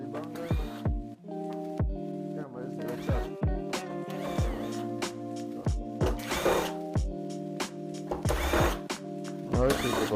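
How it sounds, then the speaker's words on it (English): Power drill backing screws out of a TV during a backlight strip repair, several short whirring bursts at irregular intervals, each trailing off, up close with light clicks between. "Alright, we take out all these screws"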